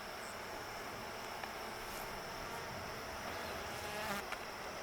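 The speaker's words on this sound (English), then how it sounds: "I got a bee on the camera" A wild honey bee from a swarm buzzes close to the camera with a steady, faint hum that carries on throughout under broad outdoor hiss.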